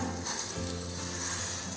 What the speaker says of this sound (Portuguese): aqui a gente vai fritando esse arroz até que ele fique totalmente sequinho